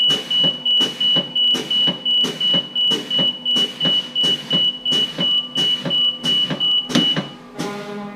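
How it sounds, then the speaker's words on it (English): Air brakes on a bus pumped down below 50 psi during a pre-trip inspection: quick, evenly spaced bursts of hiss about twice a second, over a steady warning beep, ending in a longer release, loud and close. "Now I'm going to pump the brakes to below 50 psi, and my parking brake will engage"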